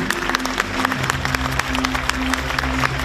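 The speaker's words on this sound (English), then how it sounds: "A big round of applause, ladies and gentlemen." Applause from guests at a Bandar Malaysia agreement signing ceremony, scattered clapping over a steady low hum from the hall's sound system, with no talk.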